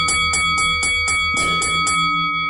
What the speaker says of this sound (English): That's a long boxing bell.